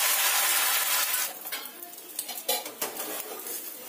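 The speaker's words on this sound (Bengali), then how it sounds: "এবার যে দুটো ডিম ফাটিয়ে রেখেছিলাম সেটা দিয়ে দিলাম এর মধ্যে।" Two cracked eggs hit hot mustard oil in a frying pan: a loud, bright sizzle at first that soon settles, broken by a few sharp clinks of a utensil against the pan.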